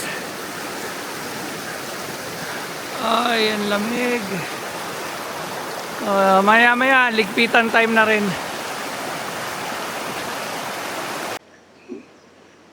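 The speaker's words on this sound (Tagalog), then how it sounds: "tumambay lang kami dito sa may ilog" River water flowing steadily at a woodland campsite in Tanay, Rizal, a constant rushing wash in the background while people talk briefly over it, ending abruptly.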